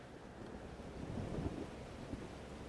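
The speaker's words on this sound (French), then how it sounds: "Donc cette tempête est Safi, créée par sa fille, pas par moi" A thunderstorm in Life is Strange: Double Exposure rolls as low, swelling rumbles of wind and distant thunder, fairly faint and peaking briefly midway, with no voices.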